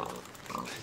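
A pig oinks in the video game Minecraft, a brief grunting snort close up against a noisy game background, with no speech.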